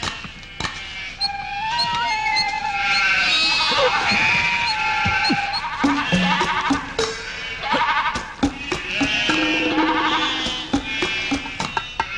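Sheep bleat repeatedly, loud and close, mixed with sharp clacking knocks and a busy outdoor background.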